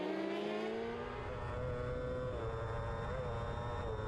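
Racing motorcycles lap a road race circuit at Enniskillen, a continuous high-pitched engine whine holding steady at speed, moderately loud and without speech.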